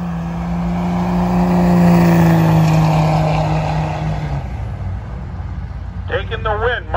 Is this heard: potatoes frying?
no